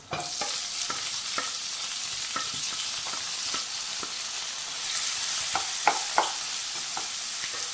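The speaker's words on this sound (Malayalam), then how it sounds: "രണ്ട് മീഡിയം സവാളയാണ് ചേർത്ത് കൊടുക്കുന്നത്" Two medium onions frying in a pan for a prawn roast, a steady sizzle with repeated sharp scraping clicks of a spoon stirring throughout, close and clear, no talking.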